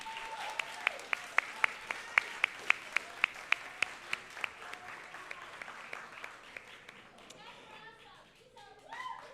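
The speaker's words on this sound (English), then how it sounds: "Again, big round of applause to you two." Graduation audience at Satellite Academy High School applauding two honored educators, a crowd of clapping with prominent close individual claps that taper off into chatter and children's voices.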